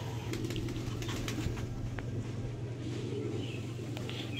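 Madrasi and Mundi white flying pigeons coo in a low, continuous murmur, with a steady hum underneath and scattered light clicks and scuffs nearby.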